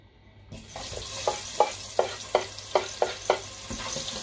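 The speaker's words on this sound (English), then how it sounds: "So I go add my chopped onions." Chopped onions hit the hot palm oil of a Nigerian buka stew with a sudden loud sizzle, followed by a regular series of stirring scrapes about every half second over the continuous frying hiss.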